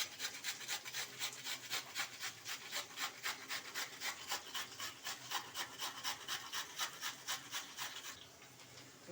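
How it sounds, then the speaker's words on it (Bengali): An onion is grated by hand for an egg curry, giving close, rhythmic rasping strokes at a steady quick pace for about eight seconds before stopping, with no talking. "এই যে পেঁয়াজটা আমি একটু ঘষে নিচ্ছি।"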